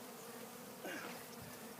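A swarm of honey bees on a cedar tree hums in a faint, continuous drone, with one bee buzzing briefly louder and closer midway.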